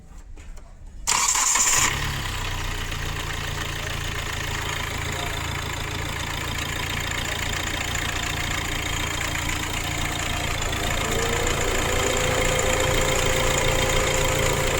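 A high-mileage Hyundai i20 diesel engine cranks and catches about two seconds in, then settles into a steady, close, loud idle with a continuous low hum and clatter for the rest of the clip.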